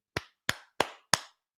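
Four slow, evenly spaced hand claps, close and fairly loud, each a sharp smack with a brief trailing decay, with no voices around them.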